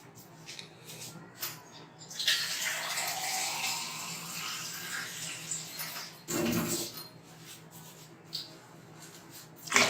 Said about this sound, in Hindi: ये तकरीबन मैंने 3 जग जो है इसमें ये पानी के ऐड किए हैं